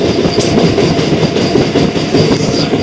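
A MEMU passenger train running between Rajahmundry and Bhimavaram, heard from inside as a loud steady rumble with rhythmic wheel clatter on the rails, no voices.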